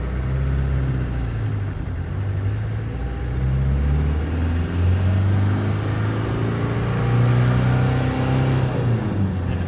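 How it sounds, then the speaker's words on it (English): A 1995 Land Rover Defender 130 pulls away and accelerates onto back roads, its engine rumbling and rising through the gears with steady drone shifts, while a thin rising whine of turbo spool sits above the heavy low exhaust note. "you can hear that turbo spooling"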